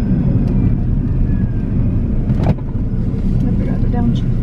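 Car engine pulling hard in fourth gear as a driver builds speed, a steady loud drone with wind and road rumble throughout, and people talking over it.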